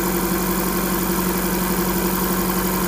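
Custom-built Kia off-road vehicle engine idling just after starting, a steady, loud, close rumble with an even hum and no variation in pace.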